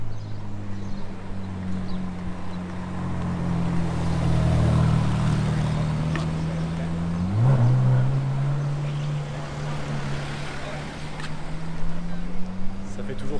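A Ferrari 458 Speciale's naturally aspirated V8 holds a low, steady rumble with one brief rise in revs midway, while people talk nearby.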